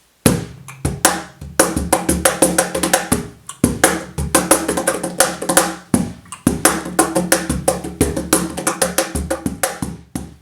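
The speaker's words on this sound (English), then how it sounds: "You can hear those wires rattling against the front of it" A snare drum with its wires buzzing against the head, struck in a dense, steady run of rapid hits with short pauses, loud and close with no talking.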